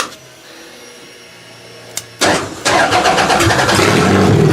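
A V6 car engine is cranked, catches after a couple of seconds and roars to life, then settles into a loud, rough, steady running rumble close by.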